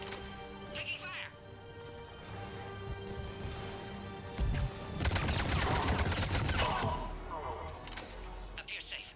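Gunfire in the sci-fi shooter game Mass Effect 3: a dense burst of rapid shots and impacts erupts midway over background battle noise, with voices talking around it.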